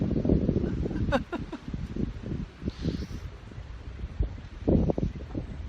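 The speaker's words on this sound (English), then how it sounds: "But the wind is really picking up." Strong outdoor wind buffets a microphone, rumbling low gusts that surge and ease unevenly over a steady hiss, close and loud with no clear speech.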